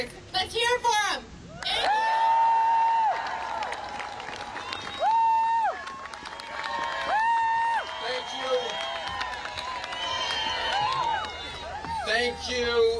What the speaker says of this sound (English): cheer for him